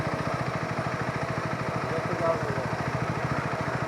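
A motorcycle engine idles steadily at close range with an even, throbbing rhythm, on a road near the new Farakka bridge while waiting for a gap to get the bike through traffic.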